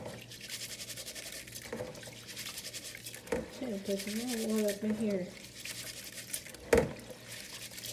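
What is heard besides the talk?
rinsing rice in water for rice water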